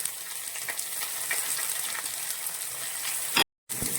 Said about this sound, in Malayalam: നന്നായിട്ടൊന്ന് വഴറ്റുക പച്ചമുളക് ഇട്ട് കൊടുക്കാം